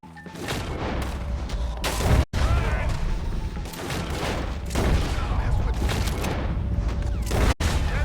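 Gunfire in Red Dead Redemption 2 during a wagon standoff, dense bursts of loud shots and booms rolling almost continuously, broken by two brief dropouts, with faint shouting underneath.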